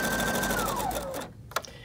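A Viking Brilliance 80 sewing machine stitching, a fast, even mechanical whirr with a rising-and-falling motor tone that slows and stops, followed by a single sharp click, close and alone.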